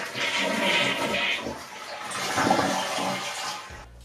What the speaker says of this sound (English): we're gonna go ahead and flush the toilet and let it, all the water inside of it drain